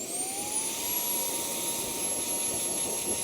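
A VortexHaus Turbo Jet Double Blow V2 blower drying the chrome on a truck gives a loud, steady jet-like roar with a high whine that rises as it spins up and then holds.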